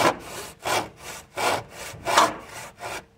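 A hand saw cuts through a wooden board, about 7 3/4 inches, in seven steady back-and-forth strokes with an even rasping rhythm, close and alone.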